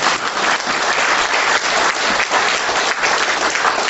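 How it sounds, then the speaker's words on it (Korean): Dense, steady audience applause fills the hall at a Korean political lecture and book launch event, a continuous wash of many hands clapping with no voices over it. "이 두 분에게 크게 박수 한번 보내주십시오."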